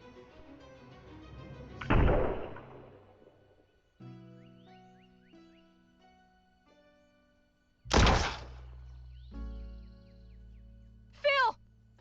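Gunshots in the western point-and-click game Rosewater, two sharp loud bangs several seconds apart within a game soundtrack of sustained tones, with a brief high cry near the end.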